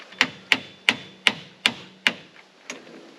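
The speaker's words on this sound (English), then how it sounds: "Can we tap this with a hammer?" A hammer tapping a nut on a ball joint pin bolt in a vehicle's broken steering knuckle, seven sharp metallic knocks at a steady pace, close and loud with short ringing decay.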